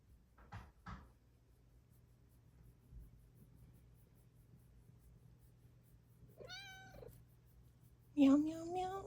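A domestic cat meows a few times, short harmonic calls spaced apart with a longer, louder meow near the end, over a low steady hum and occasional handling knocks.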